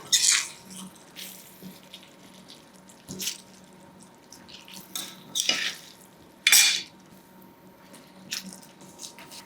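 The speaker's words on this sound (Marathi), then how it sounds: "आता यामध्ये ही भेंडी जी आपण तेलावर परतून घेतली ही घालूयात मिक्स करूयात" Okra first sautéed in oil is stirred into a thick masala gravy for bhindi masala, with a spoon scraping and clinking against the pot in a handful of separate bursts over a faint background.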